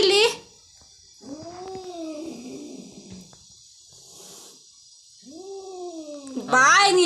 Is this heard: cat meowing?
yes